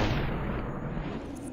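A single heavy gunshot boom in SUPERHOT, loud and close, with a low rumbling tail that fades over a second or so.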